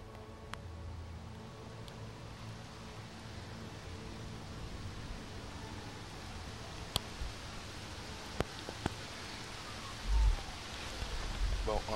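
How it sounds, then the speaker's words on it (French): Rain falling outdoors at night, a steady, faint hiss of drops continuing throughout, with a few isolated clicks and a short, louder low thump near the end. "Il pleut."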